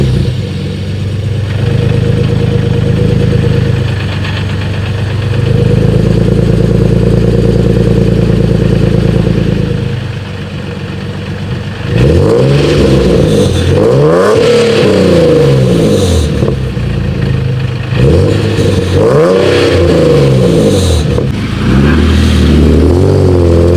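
A Nissan 370Z with its VQ engine revs hard, holding a loud steady drone before climbing and falling through repeated sharp rev sweeps, close and alone with no talking.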